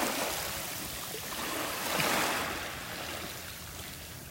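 Ocean waves wash steadily onto a shell-covered beach at Delnor-Wiggins, a continuous broadband rush of surf that swells briefly around the middle, with no voices.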